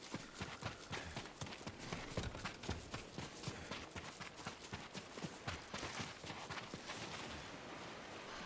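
Horse hooves clop steadily along in Ghost of Tsushima, a quiet, fairly fast rhythm of hoofbeats continuing throughout at a low level with no talk.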